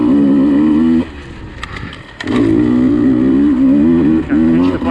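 A motorcycle ridden hard through a woods turn track roars loud and close with a steady engine tone, drops off briefly as it eases into a corner, then climbs back to full throttle.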